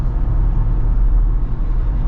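A 2024 Jeep Wrangler 392 on the move gives a steady, close, low engine and road rumble that holds evenly throughout, with no talk.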